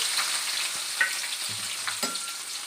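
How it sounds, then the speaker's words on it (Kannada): Three medium chopped onions and cardamom sautéing in oil in a pan for chicken fry, a continuous close sizzle with a few soft stirring scrapes. "ಈರುಳ್ಳಿ ಕಲರ್ ಚೇಂಜ್ ಆಗೋವರೆಗೂ ಚೆನ್ನಾಗಿ ಈ ಥರ ಬಾಡಿಸ್ಕೋತೀನಿ"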